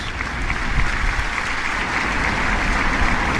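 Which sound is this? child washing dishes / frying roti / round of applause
round of applause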